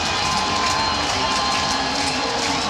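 A packed Virginia college football stadium crowd roars continuously to urge on its defense, a dense, loud, unbroken wall of cheering voices.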